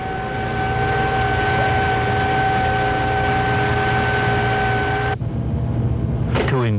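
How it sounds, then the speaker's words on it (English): A submarine's steady underwater mechanical drone with sustained humming tones and broad rumble, which abruptly changes near the end into quick rising chirps. "Now listen to the unnatural sounds produced by a submarine."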